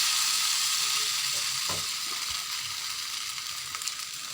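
Boiled noodles and scrambled eggs frying in a pan, a steady, bright sizzle throughout with soft scraping and thuds of stirring breaking through it.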